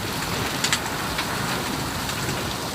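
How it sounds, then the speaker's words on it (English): Small hail patters steadily on a trailer with cheap plastic siding during a storm, a dense, constant rattling hiss with a few sharper taps standing out. "Oh yeah, we got hail, I guess."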